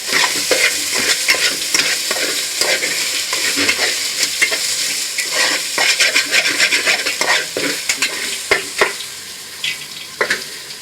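Pulao frying in a pan, with a spatula scraping and stirring in quick irregular strokes over a constant loud sizzle, close up and without talk.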